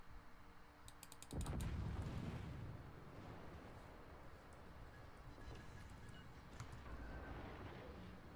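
Naval gunfire from a destroyer in a video game: light clicking is followed by one sudden loud boom whose rumble decays slowly into a lingering low wash, with faint scattered clicks continuing.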